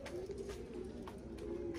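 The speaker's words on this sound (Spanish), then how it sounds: "Que la paloma sí está ahí, está criando un pichón" Pigeon cooing at a nest where it is raising a chick: low, soft, repeated throaty coos over a steady background hum, with no speech.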